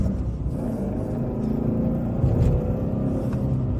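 A 2009 Dodge Challenger R/T muscle car engine pulls hard through second into third gear, a loud, close, throaty roar that holds steady, swells briefly midway and carries on without talk.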